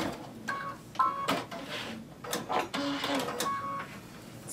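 A sewing machine stitches a fabric patch with metallic thread in short, close bursts of mechanical whirring, pausing and restarting several times, with no talk.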